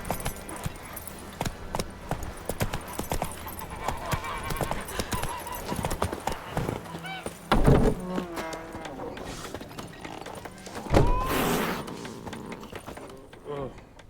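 Steady hoofbeats clip-clop from Roach, the horse in the video game Witcher 3, over a busy game soundscape. A brief whinny and jingling tack break in, and someone speaks at times.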